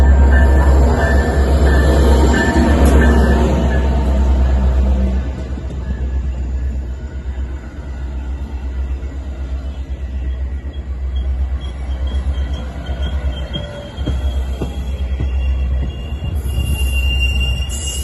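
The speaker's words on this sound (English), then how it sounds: "Milwaukee West Main Line train number 2225 to Big Timber is now arriving." A Metra Milwaukee West commuter train pulls into Roselle station, a loud, close rumble with squealing wheels and metallic screeches that ease off as it slows, steady throughout with no talking.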